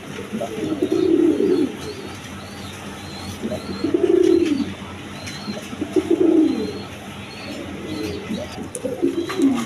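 A pair of tulip pigeons nesting on two eggs give low, throaty coos in about four separate rolling bursts, close by and moderately loud over a quiet room.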